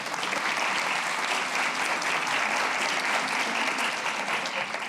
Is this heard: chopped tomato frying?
no